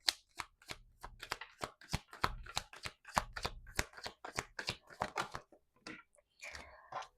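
A deck of tarot cards is shuffled and drawn, giving quiet, close bursts of riffling and sharp card slaps in an irregular rhythm, with no talking.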